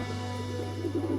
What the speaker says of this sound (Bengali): পাখিগুলো ডাকছে পায়রাগুলো